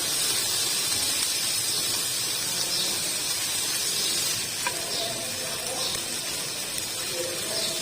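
A spiced vegetable filling for bread pakora sautés in a hot pan, making a loud, even sizzling hiss that runs throughout with only faint stirring touches.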